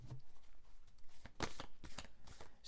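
A tarot deck shuffled by hand: a short run of quiet, close papery flicks and slaps, the sharpest in the middle, with no voice.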